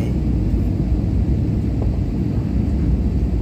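A passenger plane lands on the runway at Chandigarh Airport, heard as a loud, steady, deep roar and rumble that fills the whole stretch without a break.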